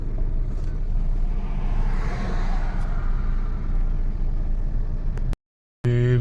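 A vehicle pulls away after its fuel tank is filled, a steady loud rumble of engine and road noise that runs for several seconds, then cuts out briefly before an unrelated tonal sound.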